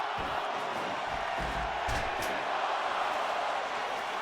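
Wrestling arena crowd cheering during a match, a loud, continuous wash of massed voices with a couple of brief sharper whoops rising out of the din.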